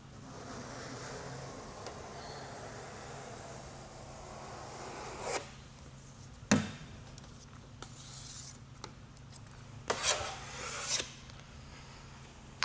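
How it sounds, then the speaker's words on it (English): A large plastic applicator skims excess body filler off a panel being filled to eliminate pinholes, giving soft scraping rasps in short strokes, faint and close, more frequent in the second half. "we can grab our large applicator and skim the excess off"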